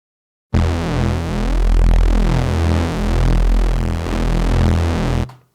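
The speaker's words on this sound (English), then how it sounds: "So you get this really warm Reese bass sound that everybody loves." A wide, warm Reese bass from two detuned oscillators with two-voice unison spread, sustaining for about five seconds with a slow phasing throb; loud and alone with no talking.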